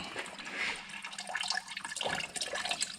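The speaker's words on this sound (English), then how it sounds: "That'll continue draining for a bit." Fluid splashes and trickles steadily from an MGF car being prepared for engine and subframe removal, a close, continuous liquid pour with no talking.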